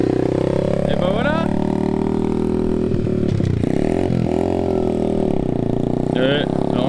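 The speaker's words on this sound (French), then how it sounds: "j'ai entendu deux gros coups de gaz" A powerful motorcycle engine revs loudly, with two big throttle blips that sweep up and fall back over a rough idle, along with some clatter and scraping, close up.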